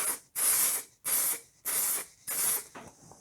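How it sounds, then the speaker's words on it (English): Super glue activator sprayed from an aerosol can in four short, even bursts, each a loud close hiss of about half a second separated by brief pauses. "all I've done is just a few little quick spray coats of that."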